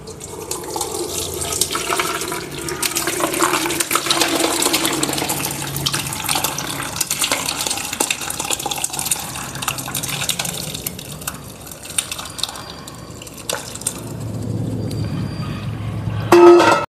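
Curdled milk poured into a strainer while making homemade paneer, with a steady watery pouring and trickling of whey running through for most of the stretch, fairly close and alone without talk.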